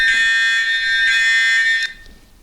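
An electronic timer alarm beeps loudly and steadily for about two seconds, a bright high-pitched tone that then cuts off abruptly, leaving quiet.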